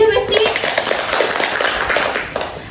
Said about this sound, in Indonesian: Tepuk tangan dulu ya, Besti